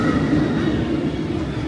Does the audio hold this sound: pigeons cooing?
no